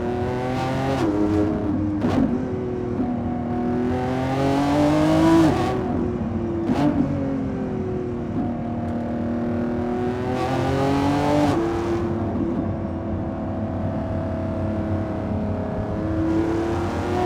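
2025 Lamborghini Revuelto engine revving hard on a canyon drive, heard from inside the car: repeated rising and falling rev sweeps with gear-change dips, loud and continuous, with no talking.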